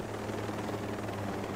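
A helicopter in the video game Ghost Recon Breakpoint, trailing black smoke after taking hits, gives off a quiet, steady rotor drone with a faint rhythmic chop throughout.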